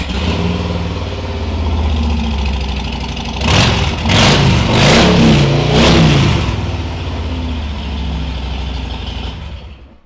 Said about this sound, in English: biggest thing on an Harley Davidson, how does it sound? We'll have a check now.